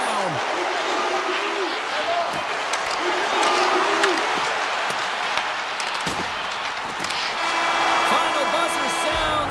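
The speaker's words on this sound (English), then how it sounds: "Final buzzer sounds" Toward the end, the final buzzer of an eHockey esports ice hockey video game match sounds as a sustained horn tone over steady crowd noise, while a commentator talks throughout.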